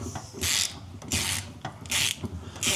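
Ratchet clicking as screws are loosened on a Vespa GTS 310 scooter during oil pan work, four short bursts of rapid close-up pawl ticking with brief pauses between them.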